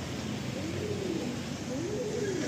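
A green female Madrasi pigeon in a loft gives two soft, rolling coos, close by, over a steady background hum.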